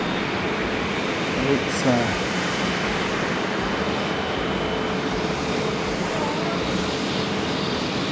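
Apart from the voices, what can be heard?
jet airplane engine at Haneda airport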